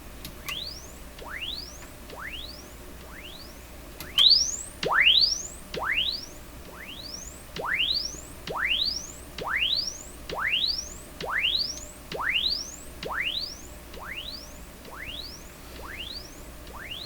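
Repeated rising chirp sweeps from a signal generator test tone played through a Sony TR712 transistor radio, about one sweep per second at moderate, steady level with a faint background hiss.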